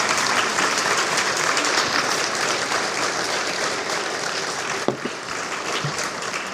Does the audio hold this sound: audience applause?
yes